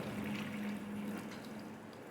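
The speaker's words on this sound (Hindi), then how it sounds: "अब हम इसमें पानी डालेंगे।" Water pours steadily into the pot of a freshly repotted indoor jade plant, a continuous close splashing and trickling flow with a faint low hum underneath, no talk.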